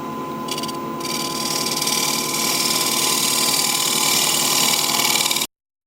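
A wood lathe spins a natural edge maple bowl at about 1200 RPM, giving a steady mechanical whir with a faint fast rattle that builds slightly before cutting off abruptly.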